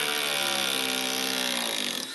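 A DeWalt hydraulic impact driver drives into a knot in wood, making a loud, continuous buzzing whine for about two seconds that tapers slightly as it finishes.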